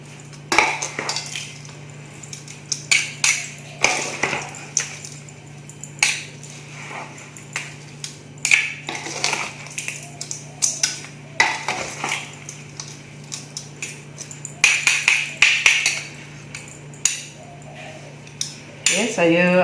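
Dried shrimp (udang geragau) being tossed and mixed in a bowl, giving repeated light clinks and scrapes of utensil against the bowl in an irregular rhythm, close by over a low steady hum.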